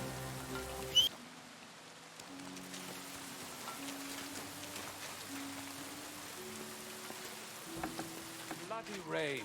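Steady hiss of rain falling in the medieval video game Kingdom Come Deliverance 2, continuous and even throughout, with soft game music tones and a character speaking over it.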